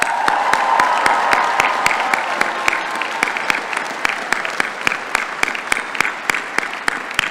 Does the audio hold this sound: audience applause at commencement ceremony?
yes